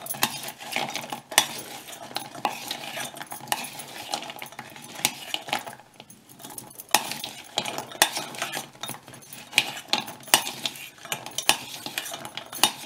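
A spoon scrapes and clatters steadily against a pan or bowl while fried shakarpare are tossed and stirred in thick sugar syrup, a busy close-up rattle of metal and sticky crunches.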